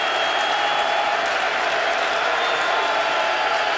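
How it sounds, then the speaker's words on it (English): A college football stadium crowd roars on third down at a UConn versus Virginia game, a loud, unbroken wall of distant cheering and noise that holds steady throughout. "Crowd on their feet."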